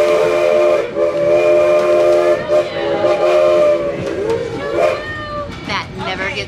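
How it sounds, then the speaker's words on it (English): Steam train whistle on an old-time heritage railroad ride, a long loud harmonic blast lasting several seconds, then shorter toots, with riders talking over it. "I love the whistle."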